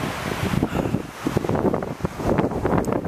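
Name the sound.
fierce wind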